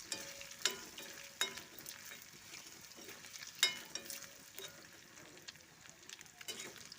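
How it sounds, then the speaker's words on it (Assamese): Potatoes and chicken fry together in a pan with a faint, steady sizzle, broken by occasional sharp clinks of stirring, quiet and close. "আৰু দুখিনি আলু আৰু চিকেন একেলগে মই ফ্ৰাই কৰি ল'ম"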